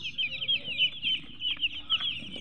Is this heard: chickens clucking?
yes